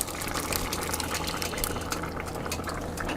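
Pulsed San Marzano whole peeled tomatoes being poured into a boiling pot, a continuous thick, gurgling wet splash and bubbling that stays loud and close throughout without talk.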